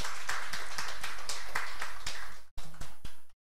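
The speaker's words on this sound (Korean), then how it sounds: "격려에 박수 좀 한번 해드리자고요." Church congregation at a Sunday morning service claps in encouragement, a few seconds of scattered hand claps that break off abruptly, with several last isolated claps before silence.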